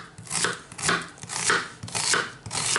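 Onion being chopped with a knife on a board during preparation of veal tongue and raw vegetable salad, about five firm rhythmic chops close by with no talking.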